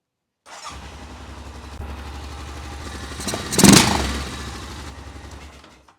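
A Honda Rincon ATV engine, earlier lacking power and topping out near 15 mph, cranks over and catches, then runs at a steady close idle with a brief louder rev in the middle before settling and cutting off.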